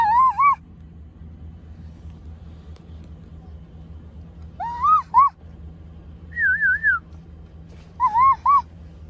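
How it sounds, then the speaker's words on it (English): A child whistles at a grandfather who is arriving outdoors: short warbling two-tone whistles, a few brief bursts over several seconds with pauses between them, heard fairly close over low background rumble. "Whistle at him."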